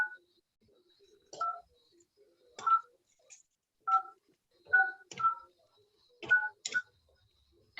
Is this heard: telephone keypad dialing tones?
yes